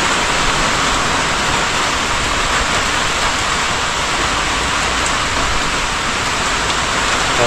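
Steady, heavy rain pouring down on a calamansi farm, a dense continuous hiss filling the whole clip with no voices.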